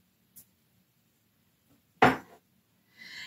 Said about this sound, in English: Let's pop the lid back on.